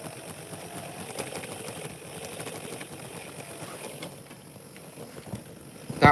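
A derailed Hornby model train's small electric motor purrs and rattles steadily with a fine mechanical buzz, ending in a couple of brief knocks.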